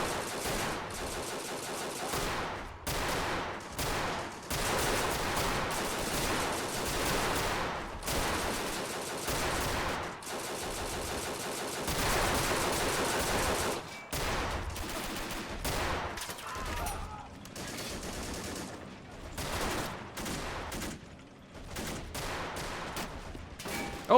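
Rapid bursts of gunfire fill a war video game battle, with an M1 Garand rifle firing among loud, dense volleys and short pauses between clusters of shots.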